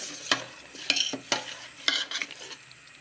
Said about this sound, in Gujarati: ગોળની સાથે ઘી પણ મિક્સ થઈ જાય એ રીતે ગોળ ઘીનો પાયો કરવાનો છે